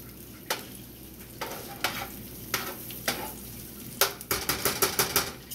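Garlic fries in a pan, a soft sizzle broken by scraping stirs, ending in a quick series of rapid scrapes, close and fairly quiet with no talk.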